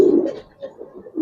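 Giribaz pigeons in a loft give a few soft, low coos in quick succession, close and clear with brief pauses between them.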